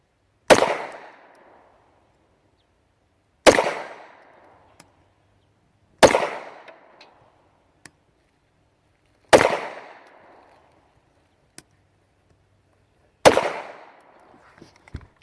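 Five sharp gunshots from a Ruger American 9mm semi-automatic pistol at a range, each a loud crack with a decaying tail, spaced a few seconds apart, with no talking.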